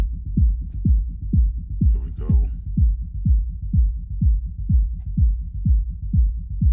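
Deep techno rumble bass built in music production, pulsing in a steady rapid rhythm of low, booming thumps that run throughout, loud and close, with a brief burst of higher texture partway through.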